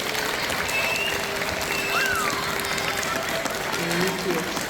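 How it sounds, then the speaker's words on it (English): An audience applauds a guest speaker at a school event, steady crowd clapping heard from a distance and filling the whole stretch at moderate level. "Let's give Mr. T. Mycheal Rambo one more round of applause"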